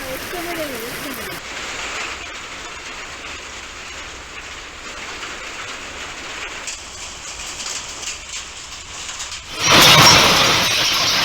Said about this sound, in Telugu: బిచ్కుంద మండలంలో ఉరుములు మెరుపులతో కూడిన వడగళ్ల వాన కురిసింది